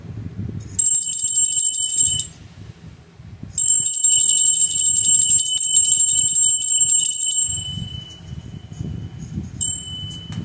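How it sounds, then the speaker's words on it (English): A bell rung in repeated bursts, bright ringing tones sustained for a couple of seconds then for about four seconds, with a brief ring at the end, over low room rumble. "We're going to ring the bell."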